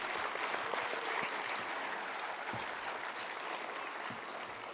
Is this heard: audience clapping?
yes